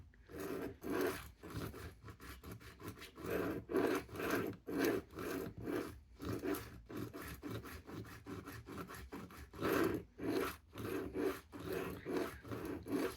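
A $30 knife sharpener grinding a steel blade, giving rough, raspy strokes in a steady repeated rhythm, each pass rising and fading, close and moderately loud with no talking.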